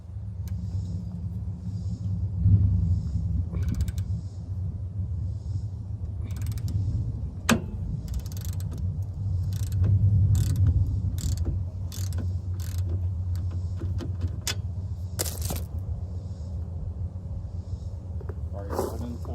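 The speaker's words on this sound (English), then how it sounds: "I think we need to torque this down, these two, and the axle nut" A motorcycle's bolts and axle nut are tightened with a torque wrench, heard as scattered metallic clicks and ratchet snaps over a steady low rumble, with a few sharper knocks standing out near the middle.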